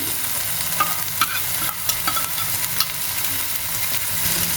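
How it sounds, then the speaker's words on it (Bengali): Green chillies and onion paste going into oil in a frying pan while cooking dried Bombay duck fish, a loud continuous sizzle broken by several sharp stirring scrapes and clatters, close by with no voices. "দিলাম কাঁচা লঙ্কা আর একটু পেঁয়াজ বাটা ছিল ওই পেঁয়াজ বাটাটাও দিয়ে দিচ্ছি"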